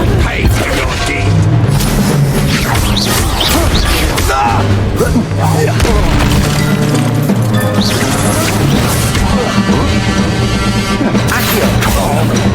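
An Incendio fire spell is cast during combat in Hogwarts Legacy, with a burst of flame and crashing, booming impacts over continuous game music and effects, loud throughout and mixed with voices.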